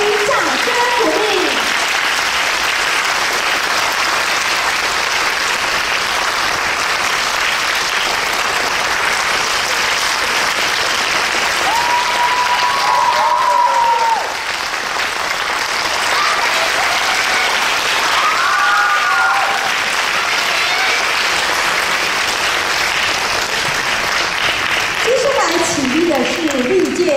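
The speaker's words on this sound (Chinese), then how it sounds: "请来宾们给予掌声鼓励" Sustained audience applause fills a concert hall after a Chinese orchestra performance, dense and loud throughout, with a presenter's voice speaking over the clapping in places and a brief dip midway.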